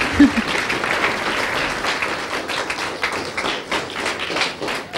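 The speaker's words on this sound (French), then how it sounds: "Je crois que vous pouvez les applaudir pour leur retour." Steady, dense applause fills a Lorient club as an audience claps for a band after a live set, with scattered whistles and a few voices in the crowd.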